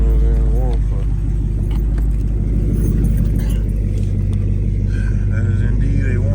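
Dodge Charger Scat Pack V8 idling after a warm start, a steady deep loud rumble that fills the whole clip, with some background noise.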